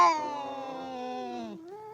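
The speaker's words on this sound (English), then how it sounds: "A screaming meow and hiss filled the air" A cat lets out one long, loud, drawn-out screaming meow with a strained harmonic wail, ending in a short rising cry, close and alone in a prank story setting.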